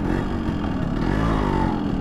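Yamaha RX100 motorcycle pulling away, its engine a steady loud mid-pitched drone with some clatter throughout, close by.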